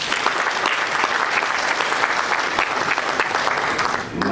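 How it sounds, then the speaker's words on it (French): At a farewell ceremony, an audience applauds a guest of honour: a loud, steady roar of many hands clapping that holds evenly before tapering briefly at the end. "Je commencerai mon allocution par saluer la présence du président Mbagnick Diop, que je vous demande d'applaudir."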